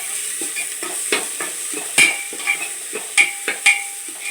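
Ginger garlic paste and small green chilies frying for a liver curry, a continuous sizzle under sharp, irregular scrapes and taps of a spoon stirring in the pan, close and fairly loud.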